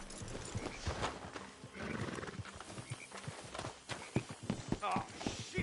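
Horses in the Red Dead Redemption 2 video game clip-clop and whinny amid game ambience, with hoof steps and a neigh mixed in over several seconds.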